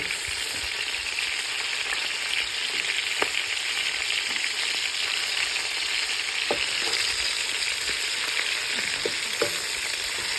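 Chicken sizzles skin side down in a hot pan for Cajun sticky chicken, a steady dense frying hiss with occasional sharp pops and spatters, close and continuous, with no voices.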